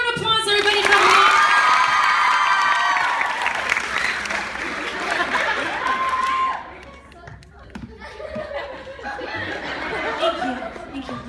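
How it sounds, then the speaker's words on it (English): At a Miranda Sings live comedy show in Miami, a large audience bursts into loud sustained applause with cheers and whoops, then the clapping thins out and fades as scattered laughter and voices remain. "Give them a round of applause, everybody, come on."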